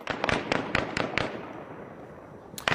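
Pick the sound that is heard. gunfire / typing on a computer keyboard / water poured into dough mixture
gunfire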